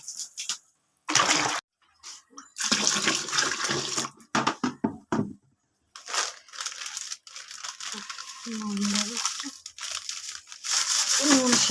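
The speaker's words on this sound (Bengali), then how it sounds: "ঠান্ডার মধ্যে বেশি জল দেব না, অল্প জল দিয়ে মেখে দেবো" Food being mixed by hand with a small amount of water, giving wet squelching, crinkling and sloshing sounds in uneven bursts with short pauses, close and moderately loud.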